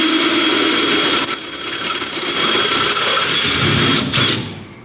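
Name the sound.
drilling 1/2 inch holes in truck frame with hyper step bit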